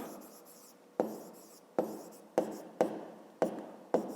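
Numbers are handwritten during a fifth-grade maths exercise, with a pen or pencil making soft scratchy strokes and a series of about six sharp taps as it touches the paper, close and quiet.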